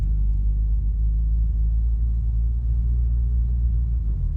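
A 1982 Plymouth Reliant runs in second gear on its first drive after long storage, its engine a steady low rumble, close and continuous, with no voices.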